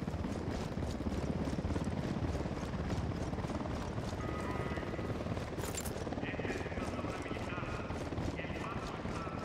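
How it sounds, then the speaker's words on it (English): Helicopter in the Ghost Recon Wildlands video game, a steady loud rotor drone running continuously under game effects and speech. "Down, get down, chopper."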